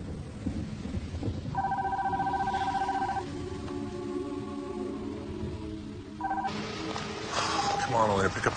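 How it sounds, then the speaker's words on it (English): A telephone tone sounds in a dramatic film scene, with steady electronic ringing and dialing tones against thunder and rain from a storm outside, followed by a brief burst of louder activity near the end. "Come on, Elena, pick up the phone, will you?"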